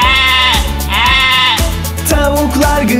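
Lambs on a farm bleat in a run of repeated wavering cries, loud and close, several calls overlapping over a musical backing with no talk.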